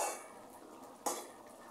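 Taro leaves and prawns are stirred in a pot on a gas stove, giving soft scraping and a single sharp clink of utensil against metal midway through, quiet and close with no talking.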